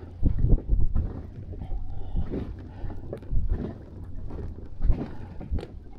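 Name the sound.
strong wind on the water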